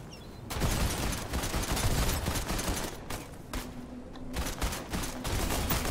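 Constant gunfire crackles through the Fortnite start screen: dense, overlapping rapid shots and bursts from the video game that run steadily throughout with brief dips, and no voices over them.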